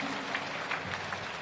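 A tennis crowd claps between serves at a 2018 Beijing quarterfinal, a brief, fairly faint patter of applause from a distant audience.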